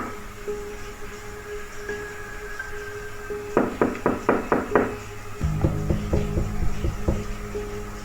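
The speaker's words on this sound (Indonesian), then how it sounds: "Lima kali ketukan." Five quick knocks on a door, part of mysterious knocking in Sabak, are fairly loud and evenly spaced. A second, more muffled series of raps follows shortly after over a steady low hum.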